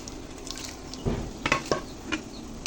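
Whole cumin, shahi cumin and dried chillies frying in hot oil, giving a soft steady sizzle with a few clinks and scrapes of a spoon against the pan, close by.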